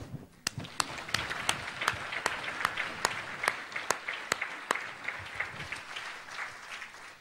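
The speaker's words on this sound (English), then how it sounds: "I'm now going to clap all of you." One person clapping slowly and steadily for a gala dinner audience, sharp separate claps about every third of a second, with a softer crowd applause wash building beneath them.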